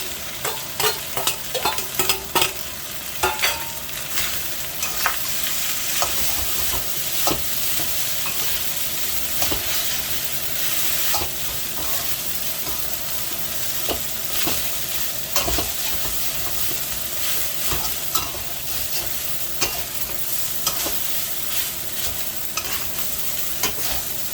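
Cooked rice is stirred and fried in a pan for fried rice, a steady close sizzle broken by repeated scraping and tapping of a utensil against the pan, with no talking.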